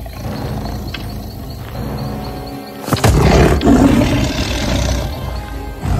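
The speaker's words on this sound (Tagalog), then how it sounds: "narinig ng matanda ang umaangil na tigre" A tiger roars in a cartoon folktale, a long loud rumbling growl that swells into a louder roar partway through, with no voices over it.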